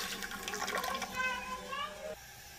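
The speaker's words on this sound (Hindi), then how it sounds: "मैं 3 गिलास पानी डाल रही हूँ" Water is poured into a pressure cooker while cooking dal and rice at home, a steady filling splash that rises slightly in pitch and then stops abruptly, with a voice faintly behind it.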